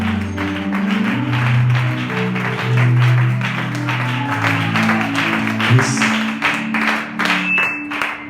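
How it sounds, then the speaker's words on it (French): A church congregation applauds for Jesus Christ, with scattered rhythmic clapping over sustained music tones that carry steadily throughout. "on acclame fort pour Jésus-Christ"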